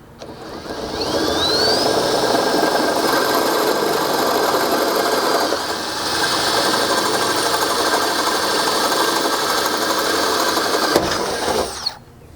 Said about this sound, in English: Then I went ahead and grabbed a 1/4-inch bit to finish these off.